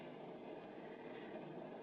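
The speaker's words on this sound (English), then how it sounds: "I wish this train would move a little faster" A train running in a 1940s radio drama sound effect, a faint, steady low rumble and rolling hum that holds evenly without speech.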